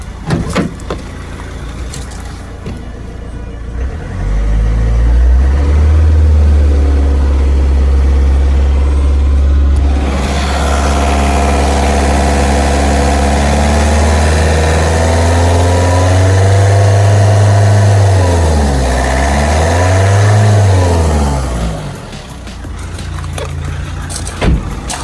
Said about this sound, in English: Started surging again, as you can hear.